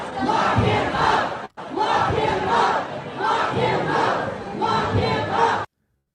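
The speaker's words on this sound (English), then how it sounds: "And here is the crowd in Concord, New Hampshire." A large political rally crowd in Concord, New Hampshire chants a loud rhythmic slogan in repeated unison phrases, dense and roaring, broken by one brief cut before the chanting resumes and then stops abruptly.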